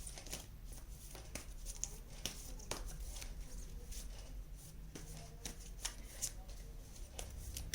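Tarot cards are shuffled and drawn by hand in a steady run of soft, close riffling and flicking, quiet and continuous with faint bursts throughout.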